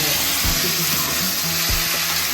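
Cumin and chili paste fry in hot oil with a loud, steady sizzle. A few low thumps from the utensil break through the sizzling, and no one speaks.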